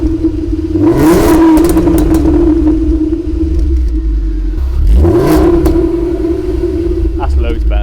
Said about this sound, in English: It sounds like a V5 now.